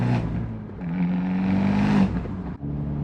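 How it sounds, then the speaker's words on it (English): Abarth 124 Spider exhaust on a downshift, picked up by a microphone taped to the back of the car: a steady loud engine drone that rises in pitch, then a sharp brief dip before the note resumes. "the microphone on the back of the car is going to show my lack of talent at downshifting"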